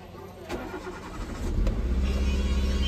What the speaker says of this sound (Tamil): கோல் ஸ்டார்ட் பண்ணுறப்ப மிஸ்ஃபயர் ஆகுமான்னு தெரியலையே.